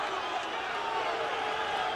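A boxing arena crowd in the twelfth round of Robert Quiroga vs Akeem Anifowoshe gives a sustained, dense roar of displeasure at a stoppage, steady throughout the short stretch.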